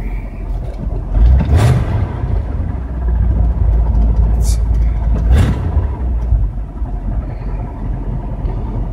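A 1983 Ford F100 stepside pickup engine idles roughly at around 800 rpm, a steady close low rumble that holds for the whole stretch with a couple of brief louder surges.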